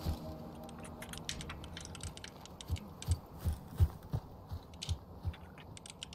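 Keys are typed on a computer keyboard during a sniper-police game session, first faint and then a burst of irregular, close clicks and taps that trails off.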